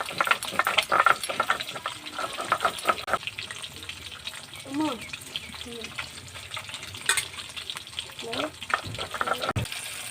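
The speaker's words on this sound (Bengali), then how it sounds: "1 পিঠ ভাজা হয়ে গেছে, এবার আমি উল্টে অন্য পিঠটা ভেজে নেব।" Lentil dumplings (bori) fry in a pan, giving a light sizzle broken by stirring and scraping clatter, close by, with a voice speaking intermittently over the cooking.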